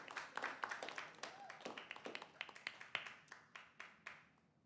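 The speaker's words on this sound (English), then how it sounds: "Can we give another round of applause?" Small audience giving a round of applause at a podcast recording, scattered close claps that thin out over several seconds, with murmured voices underneath.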